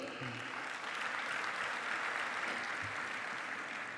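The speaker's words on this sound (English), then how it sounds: "Please give them a round of applause." An audience at the Intra-African Trade Fair opening ceremony in Egypt applauds, a dense, steady wash of clapping that fills the whole stretch without a break.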